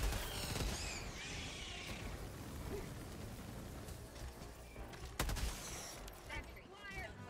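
Eagle strafing run in Helldivers: a dense, continuous roar of rapid autocannon fire and impacts fills the clip, with a sharp burst near the end, under faint talk.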